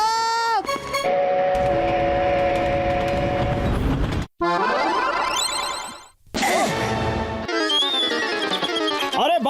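A cartoon train sounds its whistle in long wavering tones, then a rush of bright comic sound effects with sharp cuts and swooping pitches, loud and close.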